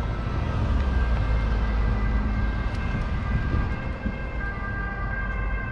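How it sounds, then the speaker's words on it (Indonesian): An ambulance siren wails steadily at a distance, its tone holding level above a loud rumbling traffic background, with no clear rise or fall as it goes by. "Dengar, ambulans,"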